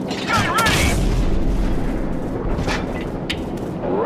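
A gunship cannon in Call of Duty 4 fires a heavy shot that lands in a deep, booming explosion with a long rumbling tail, while radio voices talk over the blast.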